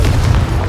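A Confringo spell blast in the Hogwarts Legacy video game: one short, deep booming burst with a heavy low rumble, loud and alone, lasting under a second.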